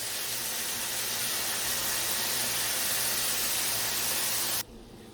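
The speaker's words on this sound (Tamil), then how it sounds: "வெங்காயம் கொஞ்சம் பொன்னிறமாக வர அளவுக்கு ஃப்ரை பண்ணால் போதும்" Onions sizzle in a hot frying pan while cooking for chicken pepper fry, a steady, loud, dense hiss that continues unbroken before cutting off abruptly near the end.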